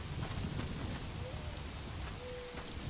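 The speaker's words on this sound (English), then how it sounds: "Very rainy, isn't it, today?" Steady rain falls in the survival game Conan Exiles, a dense hiss that runs evenly throughout, with a faint low rumble beneath and a couple of brief thin tones.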